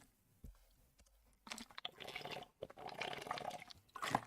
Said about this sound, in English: obnoxiously loud water bottle